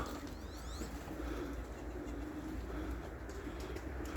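Pigeons coo softly and steadily against a constant low rumble of background noise, with no talking.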